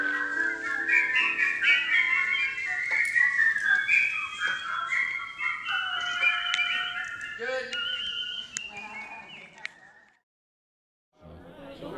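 A man whistles a long, wavering melody at a whistling competition gathering, loud and close, with sustained tones and quick ornamented runs, trailing into brief silence before another sound begins.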